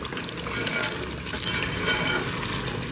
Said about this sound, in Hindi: और इन आलूओं को थोड़ी देर के लिए हमने भून लेना है।